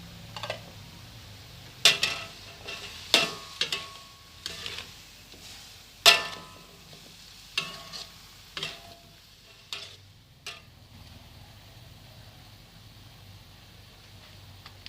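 Pineapple, onion and cucumber stir-fried in a pan for a sweet-and-sour fresh shrimp dish, with irregular scraping stirs and clinks over a steady low sizzle, close and moderately loud with no talking.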